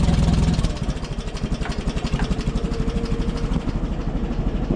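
Car engine idling after a cold start with a steady, rhythmic low chug and a slightly uneven pulse, close and continuous throughout.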